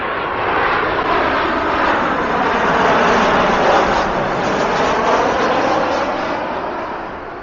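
Airplane passing overhead on approach near Vancouver airport, beside an outlet mall: a loud, steady broadband engine roar that swells toward the middle and fades slightly at the end, with no speech.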